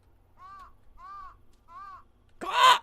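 A crow caws three times in a steady, evenly spaced rhythm within a video game set in 1998 Ohio, clear and alone, followed by a burst of louder noise at the end.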